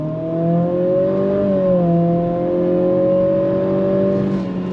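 A 2025 Acura ADX A-Spec SUV engine revs steadily higher with a smooth drone, its pitch dipping briefly at simulated shift points before climbing again, loud and close.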